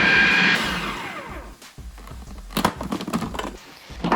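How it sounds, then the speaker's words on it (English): A food processor pulsing a whole head of cauliflower, a loud whirring burst that winds down, followed by clattering and knocking of the bowl and blade, close up with no talking. "you take your whole head of cauliflower, put it in the food processor."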